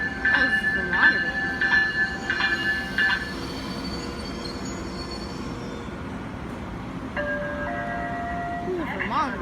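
An Amtrak passenger train moves through Bridgeport station with loud wheel squeals and screeching tones over a steady rail rumble, softening midway before fresh squeals rise near the end.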